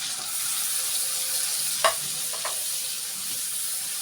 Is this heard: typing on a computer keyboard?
no